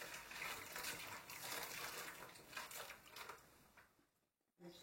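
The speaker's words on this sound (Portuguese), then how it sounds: "agora vou escaldar com água a ferver" Boiling water is poured over a clay dish to scald it in a kitchen, a continuous splashing pour lasting several seconds before it tapers off and stops, followed by a faint clink.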